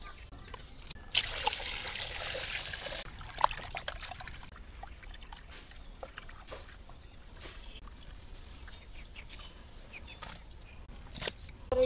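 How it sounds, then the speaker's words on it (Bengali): Fish, hilsa, being washed by hand in water in a Bengali village home, with soft trickling and splashing, faint and close, and a brief louder hiss of running water early on. "আর আমি মাছগুলো ধুয়ে নিতেছি।"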